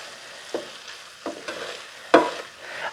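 Onions frying in a pan for smothered pork chops, with a soft background sizzle and several distinct scraping strokes of a spoon stirring, the last one loudest.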